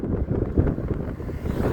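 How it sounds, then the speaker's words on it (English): Gusting wind rushes across a microphone outdoors near a small farm in Colorado, a steady low rumbling buffet with brief stronger puffs throughout, no voices. "It's a little windy today, but the weather sure is nice."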